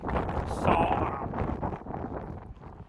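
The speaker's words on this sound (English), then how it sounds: "It's a bit cold and windy." Wind buffets the microphone in a low, steady roar throughout, with a faint voice barely audible underneath.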